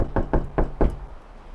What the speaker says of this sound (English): Remember when you knock on a door,